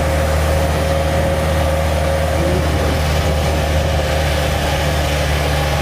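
A car engine labours steadily uphill on the steep final stretch of the Sajek Valley road, a continuous loud low hum and drone with no breaks and no talk over it.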